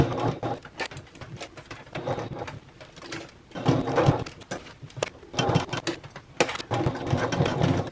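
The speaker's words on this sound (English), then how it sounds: "sew along all 4 sides of this end of the strap" Sewing machine stitching along all four sides of the end of a fabric travel bag strap, running in repeated bursts of rapid mechanical chatter with brief pauses between runs, close and fairly steady in loudness.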